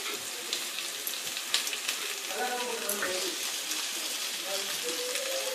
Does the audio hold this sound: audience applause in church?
no